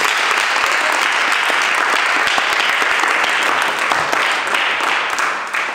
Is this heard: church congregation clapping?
yes